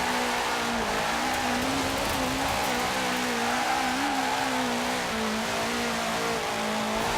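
A 2005 Subaru WRX STI drifting in Forza Horizon 4, its engine held high and wavering in pitch with a steady loud rasp, with a faint tire squeal mixed in as it slides.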